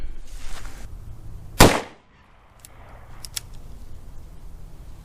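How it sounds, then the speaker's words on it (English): A single .45 Colt revolver shot with Sig Sauer 230-grain ammunition fires outdoors as one sharp, loud crack with a short ringing decay, set against steady low background noise, followed by a couple of faint ticks. "Today we're going to be shooting the 45 Colt 230 grain Sig Sauer ammunition."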